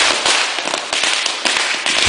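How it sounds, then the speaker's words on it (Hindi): Firecrackers and fireworks burst in rapid, loud, crackling volleys, a dense barrage of sharp pops with several heavier thumps, filling the festive night sky over a celebrating town. "विजयगढ़ का आसमान जगमगा रहा है आतिशबाजी से"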